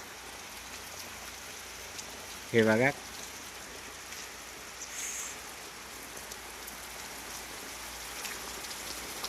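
Heavy rain pours outside in a steady, dense hiss of drops on surfaces that runs through the whole stretch, with someone speaking briefly over it partway through.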